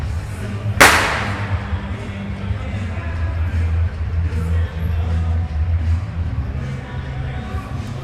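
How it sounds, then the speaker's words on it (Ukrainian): A single sharp firecracker blast goes off in a street during the Fallas festival in Valencia, a loud close crack over a steady crowd and traffic murmur that continues for several seconds afterward. "І взривають петарди"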